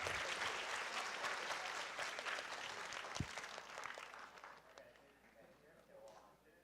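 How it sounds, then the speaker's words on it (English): Audience applause for Professor Morten Meldal at National Taiwan University, quiet and distant, fading gradually toward the end with a single sharp knock partway through. "Please give it a applause to our esteemed speaker"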